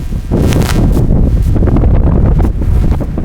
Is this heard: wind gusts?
yes